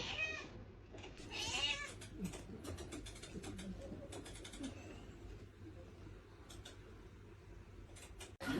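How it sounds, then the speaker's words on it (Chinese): A cat meows repeatedly in short, varied calls over faint background noise, the cries clustered early and scattered through the rest. "喵喵喵喵喵喵喵喵喵喵喵喵喵喵喵喵喵喵喵"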